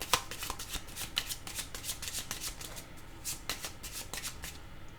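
A deck of cards is shuffled for a card reading, a quick run of crisp riffling flicks, close and soft, continuing for several seconds.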